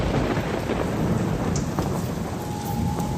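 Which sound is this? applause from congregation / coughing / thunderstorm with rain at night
thunderstorm with rain at night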